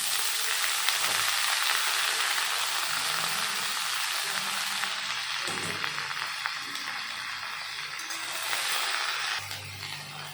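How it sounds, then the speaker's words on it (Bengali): Steady sizzling and crackling of mixed vegetables frying with onions in a pan, with occasional stirring scrapes and a brief swell in the hiss. "পেঁয়াজটা ভাজা হয়ে গেল, দিয়ে দেবো সবজি।"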